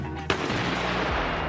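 A Cobra 8 firecracker goes off with one sharp, loud blast, followed by a long, dense roar that holds steady to the end with no talk.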